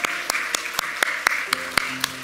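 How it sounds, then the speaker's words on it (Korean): A church congregation claps in welcome for visiting guests during a Sunday service. The claps are sparse and separate, a few near sharp hand claps with gaps between them, and a faint tone hangs underneath. "일어나시면 저희 큰 박수로 환영해 드리겠습니다."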